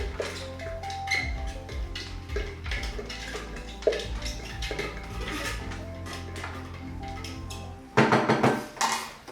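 Egg roll filling of shredded vegetables is tipped and scraped into a large pan, giving irregular clinks, knocks and metallic scrapes, with a louder clattering burst near the end. No one speaks.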